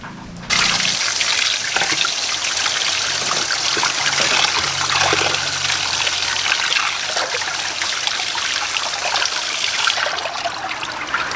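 Chicken rinsed under a running kitchen tap, a steady broadband rush of flowing water that starts abruptly and runs continuously at close range, with no talking.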